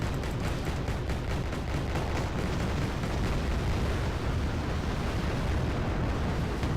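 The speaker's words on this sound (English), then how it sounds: "The Cobra can open fire now" Sustained rapid gunfire from a Cobra attack helicopter in the war strategy game Wargame AirLand Battle, a dense continuous rattle of bursts and explosions lasting several seconds.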